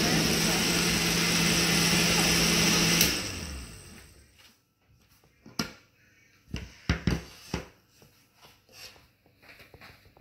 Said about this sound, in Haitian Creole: Blender.